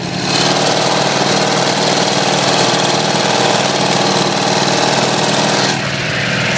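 A new tractor's engine runs loud and close as the machine moves off, a rough, steady chugging drone that holds throughout before dropping away at the very end, with no talk over it.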